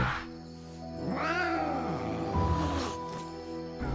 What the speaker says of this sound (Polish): Mamy kota.